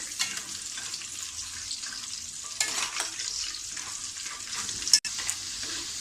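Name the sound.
peanuts being stir-fried in a pan for poha chivda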